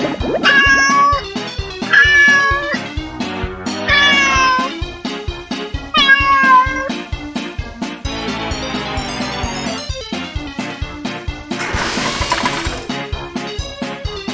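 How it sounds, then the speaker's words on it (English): A cat meows several times in drawn-out, rising and falling cries, loud and close over steady rhythmic music with a strong beat. "Cat."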